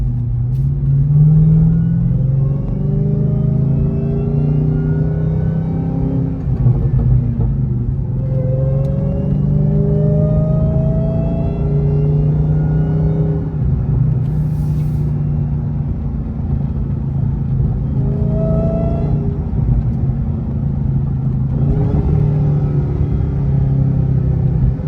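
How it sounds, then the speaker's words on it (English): A supercharged Dodge Hellcat with a cold air intake revs up and down repeatedly, a loud, close engine sound with rising supercharger whine over a deep steady rumble. "So I'll try to keep it around it, RPM range, so you can hear the supercharger real good"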